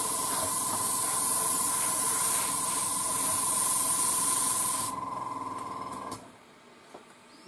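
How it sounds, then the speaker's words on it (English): Hobby air dryer blows a loud, steady hiss across a 1:72 scale model during rust and chipping painting, cutting off abruptly partway through and leaving a quiet tail. "I can use again the air dryer."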